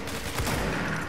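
Burst of rapid gunfire in the video game Control, a quick rattle of shots over about a second, moderately loud amid game ambience.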